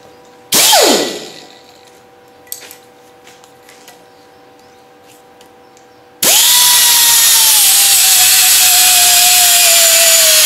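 A handheld power tool with a flat disc spins up to clean drilled pieces during an off-grid finca restoration, a brief rev dying away, then a loud, sustained close whine running steadily to the end.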